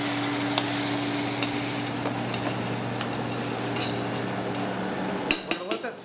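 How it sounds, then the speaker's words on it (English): Braised white beans in stock simmering in a pan with a little Dijon mustard, giving a steady low bubbling sizzle with faint scrapes and a few sharp utensil clinks against the pan near the end. "We're going to let that simmer just a little bit."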